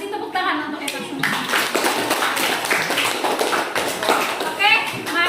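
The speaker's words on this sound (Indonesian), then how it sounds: "Kasih tepuk tangan untuk Eva semua." Students in a classroom clap together for a classmate, quick scattered hand claps mixed with children's chatter and talking throughout.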